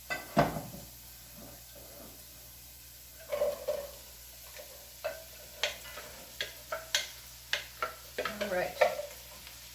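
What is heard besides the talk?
zucchini sautéing in a pan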